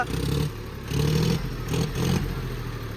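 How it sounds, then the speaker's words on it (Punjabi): A John Deere 5050D tractor engine runs close by and revs in repeated bursts, its loud mid-pitched diesel rumble rising and falling with a mechanical clatter. "ਇੰਜਣ ਦੇ ਲੈ ਕਿਵੇਂ ਬੋਲਦਾ"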